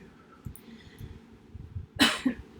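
A single sharp, explosive sneeze bursts out near the end, loud and close, with a short trailing gasp after a stretch of quiet room noise.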